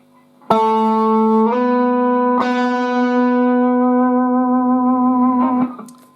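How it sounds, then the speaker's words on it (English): Distorted electric guitar plays a riff: a sharp pluck on A, a slide up to B, then one more pluck, ringing out loud and sustained before fading. "all you're doing is plucking the A and sliding to the B, and then plucking it once more"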